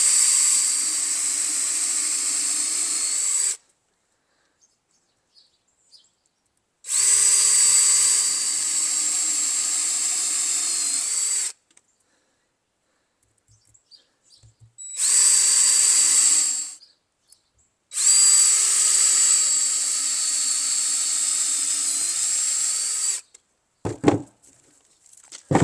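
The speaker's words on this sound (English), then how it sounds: "Bring the drill bit all the way down to the stopper so you'll know that you have" Power drill boring plug holes into a log for shiitake mushroom cultivation, in four loud sustained bursts of high whining drilling separated by quiet pauses, with a few faint knocks near the end.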